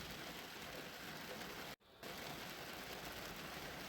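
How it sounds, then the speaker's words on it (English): Heavy rain pouring down in a steady, dense downpour, loud and continuous, with a brief dropout partway through before the full roar resumes. "It started off as a light rain, and it has just picked up speed into a downpour, almost a deluge."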